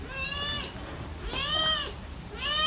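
Cats meow three times in a row, close and fairly loud, each call rising and falling over a soft background hum.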